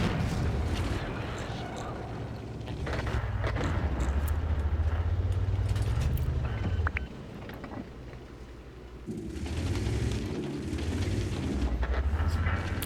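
Tank guns firing in a video game battle, deep booming shots over a constant low engine drone, with rumbling impacts and a brief quieter stretch before the heavy noise returns.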